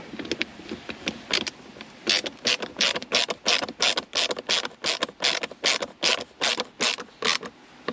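A multi-bit screwdriver tightens screws on a GR Corolla armrest, giving a steady run of about twenty sharp ratcheting clicks at an even rhythm, close and fairly loud, with no talking.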